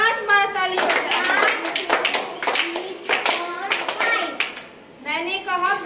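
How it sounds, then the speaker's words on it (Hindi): Children in a classroom activity clap their hands in a burst of sharp, uneven claps, mixed with children's voices talking and calling out. "मैंने कहा पांच बार ताली बजाओ"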